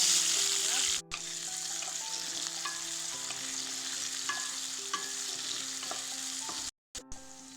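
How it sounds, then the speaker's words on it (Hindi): Onions frying in hot mustard oil with panch phoron, a soft, continuous sizzle with occasional stirring taps and steady background tones, briefly cutting out twice. "प्याज के खूब बढ़िया से लाल कऽ कऽ भूजि लै छी"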